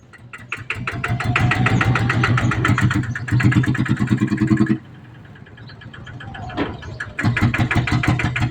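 A ten-horsepower engine on a Thai E-taen farm vehicle thumps loudly and rhythmically up close. It drops to a quieter idle partway through, then revs back up to a loud chugging pulse.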